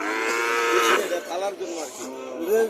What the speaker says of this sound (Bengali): এখানে একটা সার বাছুর দেখা যাচ্ছে, বাছুরটা সুন্দর দেখা যাচ্ছে, দেশি বাছুর